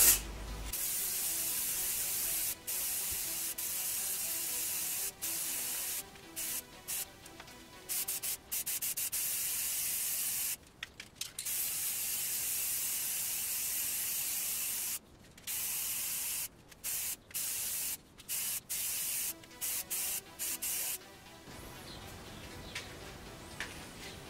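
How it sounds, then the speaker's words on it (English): First coat of blue spray paint going onto a case in a shed, bursts of loud hissing spray in short and long pulses separated by brief pauses. "So we're going to do a quick spray of all this."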